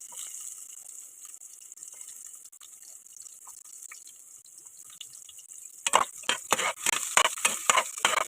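Garlic and onion being stirred in hot oil for sautéed pechay: after a quiet stretch, a burst of sizzling and repeated scraping stir strokes comes in close and fairly loud near the end.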